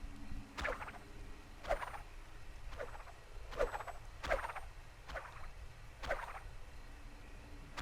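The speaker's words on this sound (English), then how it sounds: "I can hear the cricket sound effect." Cricket chirps in Baldur's Gate: Dark Alliance II, a series of short, sharp, evenly spaced bursts roughly once a second over a constant low background hiss, fairly faint and with no talk.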